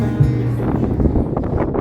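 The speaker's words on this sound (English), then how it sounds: "it's a crazy windy day here today" Strong wind buffets the microphone at Argentia on Canada's east coast in a steady, low roaring rumble, loud and continuous throughout.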